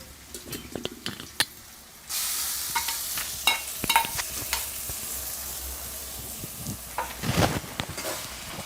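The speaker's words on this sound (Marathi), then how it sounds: "आता मस्तपैकी ते आपण आता मिक्स करून घेऊ तेलामध्ये परतून घेऊ" Konkani-style wet coconut paste hits hot oil for a Malvani fresh cashew masala bhaji. After a few light clinks, a strong sizzle surges up and holds, with spoon scrapes and stirring clatter over the frying.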